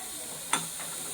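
Cinnamon, clove, cardamom, dry red chilies and green chili hitting hot oil in a pan, a brief sharp sizzle burst that quickly settles into a low steady frying hiss, close by.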